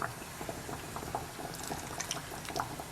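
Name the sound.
ladling pickle brine into a jar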